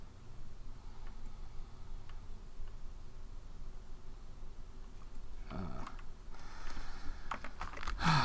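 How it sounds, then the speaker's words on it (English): Rapid tapping on a loud touchscreen phone keyboard, faint and close, a steady patter of small ticks that grows busier and louder toward the end. "That is the loudest touchscreen keyboard I have ever heard."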